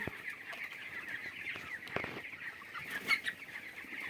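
Broiler chickens around three weeks old murmur and cluck across a poultry farm shed, a steady soft mass of flock chatter with a few sharper calls standing out.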